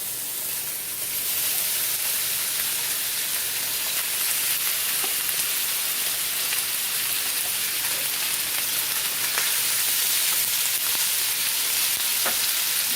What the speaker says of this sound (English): And then you got corned beef hash here. I'm just going to put that into the skillet.